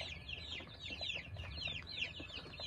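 Month-old Kuchinsky breed chicks cheep in rapid, high, overlapping peeps, a constant busy twittering at moderate volume against a faint background hum.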